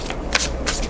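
Tarot cards riffle together in two or three brisk shuffling bursts, up close and fairly loud, with no talking during the shuffle.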